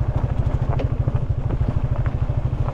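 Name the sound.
motorcycle riding downhill off-road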